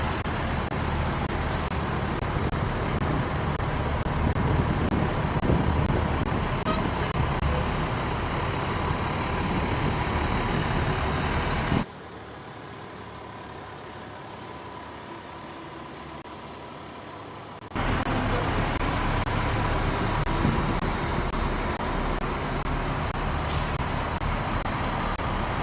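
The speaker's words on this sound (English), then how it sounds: "Grass truck there. North Lawrence Fire Department." At a Memorial Day parade in Clinton, Ohio, a North Lawrence Fire Department grass truck rolls past with a loud diesel drone and road noise; the sound cuts out briefly midway, then the engine rumble returns.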